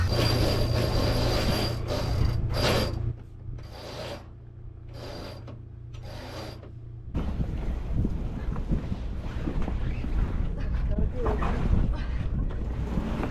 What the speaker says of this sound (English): we're gonna go ahead and put up the main and the mizzen before we take off